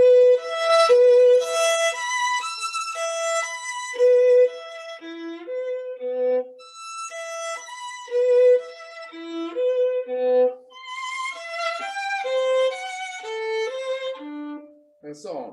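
Solo violin plays a Kreisler passage evenly, with no accents, in a masterclass setting: a flowing run of clear, close, sustained notes with brief gaps between phrases.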